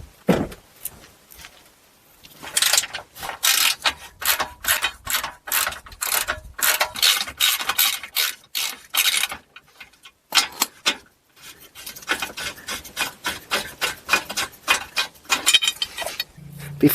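Ratchet backing out 15 mm bolts from a support part on a Buick Enclave or Chevy Traverse drivetrain, rapid loud clicking strokes in long runs, pausing midway before another steady burst, near and with no talk.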